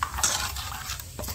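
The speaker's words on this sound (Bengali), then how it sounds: "একটু ভালো করে মিশিয়ে নেবো দুধটাকে" A spoon clinks and scrapes against a bowl while milk powder is stirred into hot water for a Bengali patishapta pancake batter, quick close-up metallic taps over a soft swishing stir.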